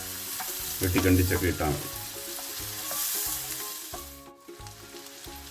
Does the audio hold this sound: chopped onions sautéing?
yes